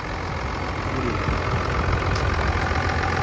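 A six-cylinder diesel engine of a Mercedes-Benz S350d idles steadily, a low continuous rumble with a rough knocking texture, close and fairly loud throughout.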